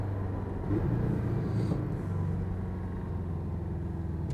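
Porsche Cayman on a race circuit, its engine droning steadily as a low, continuous rumble with mild rise in load, heard from inside the car at moderate level with no talk.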